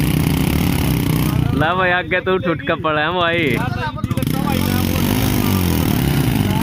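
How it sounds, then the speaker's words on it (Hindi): Two Hero HF Deluxe motorcycles, a 2021 and a 2017 model, idle side by side with a steady low engine rumble throughout, while someone talks loudly over them in the middle. "दोनों मोटरसाइकिल टोटल स्टार्ट"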